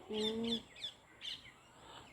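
Parrots feeding in trees, giving a handful of short sharp chirps and squawks in quick irregular bursts, close and clear over a quiet background, with no talking.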